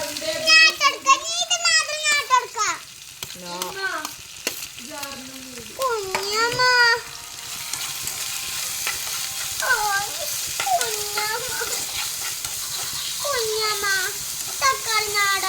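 Curry leaves hit hot oil already holding tomatoes and green chillies, setting off a loud steady sizzle that swells midway, while someone talks at length over the frying.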